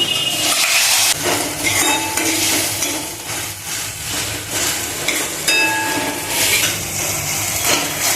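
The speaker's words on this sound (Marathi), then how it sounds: "आता आपण टॅमॅटो ॲड करू ॲड करूया" Tomatoes tipped into a pan of golden-brown frying onions for a Maharashtrian-style brinjal curry, giving a loud, steady sizzle with scraping and stirring throughout and no talk.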